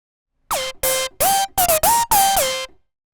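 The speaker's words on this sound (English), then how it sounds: "All right, so there's the lead sound." Lead synth preset from Native Instruments Form, a bright buzzy tone played in seven short, separate notes with swooping pitch glides, close and loud, no voices.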